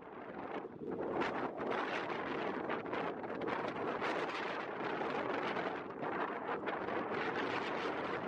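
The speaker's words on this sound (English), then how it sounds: "Super windy on the way back" Strong wind roars steadily across the microphone while riding a bike, a loud continuous buffeting rush with no talk.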